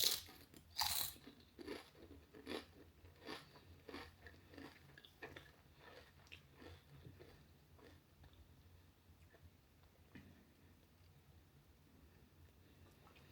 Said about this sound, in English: They're like a kettle chip consistency, really crunchy, good bit of thickness to them as well.